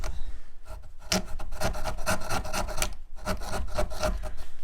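A NexTool multitool's small folding saw blade cuts through wood with rough, rasping back-and-forth strokes in a quick, steady rhythm, close and loud with a short pause midway.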